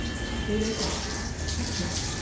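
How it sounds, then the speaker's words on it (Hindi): Water poured and splashed outdoors to wash dirt off parked vehicles and plants, a steady, close gushing rush that runs without a break. "गाड़ियों पे मिट्टी मिट्टी आ जाती है तो मैं पानी डाल देती हूँ।"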